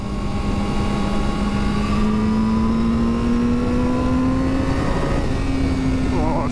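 A Yamaha R7 OW-02 motorcycle engine revs up steadily, its whine climbing in pitch before dropping briefly and rising again, loud and close throughout.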